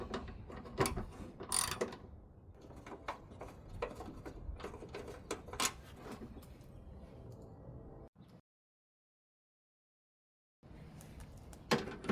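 A socket wrench ratchet loosens 10mm fender bolts on a 2013 Chrysler 200, producing rapid close clicking bursts with pauses in between, then a stretch of silence before more ratcheting resumes.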